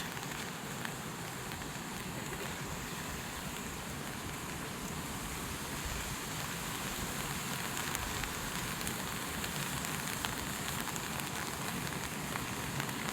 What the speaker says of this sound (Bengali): সুন্দর ঝিরিঝিরি বৃষ্টি পড়ছে আপনারা দেখতে পাচ্ছেন